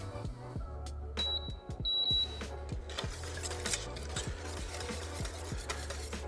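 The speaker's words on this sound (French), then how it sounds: "jusqu'à la première ébullition, on va remuer constamment" A mango-passion fruit mixture with sugar and potato starch, stirred constantly in a pan as it heats toward a boil: steady scraping and clinking of a utensil with a low hum underneath, no voices.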